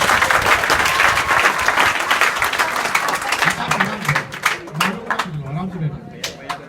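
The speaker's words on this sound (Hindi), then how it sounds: "आकाश जी के लिए एक जोरदार ताली।" Loud, dense applause from a crowd fills the space, thinning toward the end as a voice starts talking over it.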